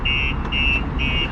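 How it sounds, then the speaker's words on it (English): A StarLine S96 aftermarket alarm on a 2018 Ford Transit van sounds three steady, shrill electronic tones in an even on-off pattern over a constant rumbling background. "the alarm's going to go off, by the way"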